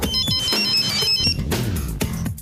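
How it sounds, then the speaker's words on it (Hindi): A phone ringtone chimes in a repeating melodic pattern, fairly loud and close, with short tonal bursts recurring over a couple of seconds. "जरा भानु के नंबर पर फोन लगाओ।"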